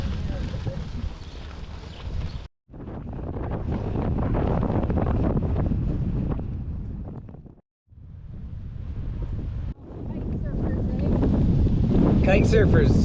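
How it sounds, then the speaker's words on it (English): Strong wind buffeting the microphone while cycling across the Canadian prairie near the Gardiner Dam, a loud, rumbling roar in long gusts broken by two brief drops to near silence. "It's a bit windy."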